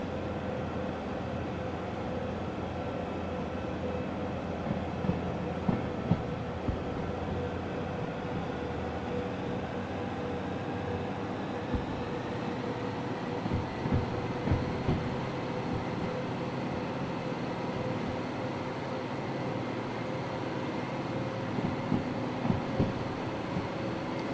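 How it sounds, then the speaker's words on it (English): A multi-engine, multi-unit train runs in the Derail Valley video game, its steady deep locomotive rumble droning continuously with occasional faint clanks and knocks from the cars, no voices present. "Curious to see how well the dynamic brake works on a multi-engine, multi-unit train."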